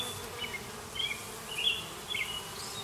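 Bees buzzing quietly around a beehive with foundationless frames in short, intermittent bursts, a few insects droning close by against a soft background hum.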